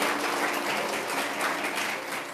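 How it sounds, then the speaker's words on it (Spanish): Congregation applauding during a Spanish-language prayer school service on speaking in tongues, a steady dense wash of clapping that holds at an even level throughout with no voices over it. "Dele fuerte ese aplauso al Señor."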